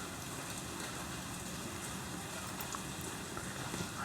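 Steady rain falls in an even, continuous hiss with scattered soft drops for the whole stretch, with no voices.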